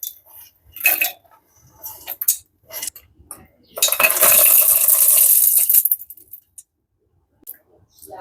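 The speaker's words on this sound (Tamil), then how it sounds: "இப்போ நம்ம வறுத்து வச்சிருக்கிற எல்லா பொருட்களையும் இப்போ நம்ம மிக்ஸி ஜாரில் சேர்த்துப்போம்." Roasted lentils and other dry ingredients for a homemade energy-drink powder are tipped into a mixer jar, with scattered clinks and a two-second rattling pour against metal, then a few light taps.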